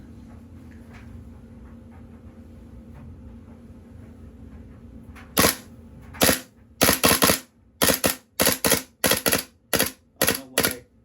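A KWA KZ.61 gas blowback airsoft gun fires on burst, one sharp shot followed by several quick bursts of crisp, loud reports close by, separated by short gaps and a low background hum.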